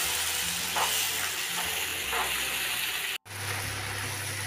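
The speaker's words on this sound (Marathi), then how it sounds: "कांदा आणि टोमॅटो आहे ना ते एक 5-6 मिनटं आपल्याला जवळजवळ परतवून घ्यायचं आहे" Onion and tomato sautéing in oil in a home kitchen pan for egg curry, giving a steady broadband sizzling hiss that runs continuously with a low hum underneath and a brief cut near the end.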